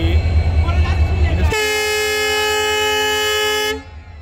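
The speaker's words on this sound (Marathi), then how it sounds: "इन्स्पेक्शन स्पेशल ट्रेन होती ही." A ten-coach inspection special train sounds a long, loud, steady horn blast for about two seconds as it departs on the Vighnwadi–Beed line, over rumbling engine noise and outdoor background chatter.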